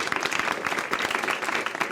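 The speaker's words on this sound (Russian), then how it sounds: "Аплодисменты." Studio audience at the Russian quiz show What? Where? When? (Что? Где? Когда?) gives a lively round of applause, loud and continuous with sharp individual claps throughout.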